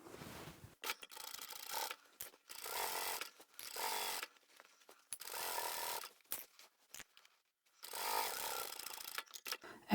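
A sewing machine stitches across a large reversible fabric tote bag in short runs, each burst of rapid mechanical whirring lasting about a second before stopping, then starting again, close by and fairly quiet.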